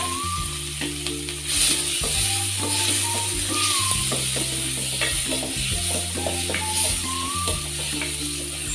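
Chopped onions, green chillies and tomato frying in a pan, a steady sizzle under repeated rhythmic scraping and clinking of a spoon stirring against the metal.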